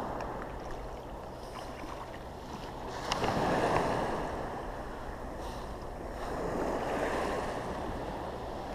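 Black Sea waves off Kobuleti, Georgia, wash in a steady broadband rush, swelling louder around the middle and again near the end, with wind noise on the microphone.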